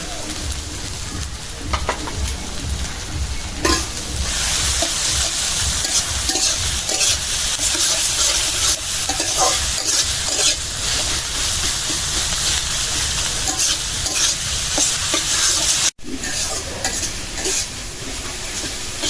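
Food sizzles and spatters in hot mustard oil in a pan while cooking chitol fish curry, a loud continuous crackling hiss with occasional stirring scrapes and a brief break near the end.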